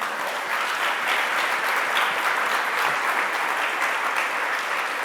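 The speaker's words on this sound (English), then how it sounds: "Another round of applause, ladies and gentlemen." Sustained audience applause at a national gathering on unmarked burials in Montreal, a dense, steady wash of many hands clapping at even loudness throughout, with no talk over it.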